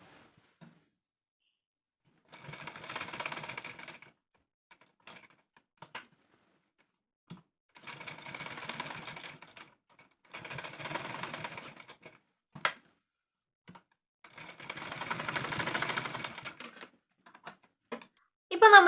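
Domestic sewing machine joining the half-inch shoulder seam of a six-panel Anarkali kurti, heard as four separate bursts of steady mechanical stitching, each lasting a second or two, with quiet pauses and small handling clicks between them.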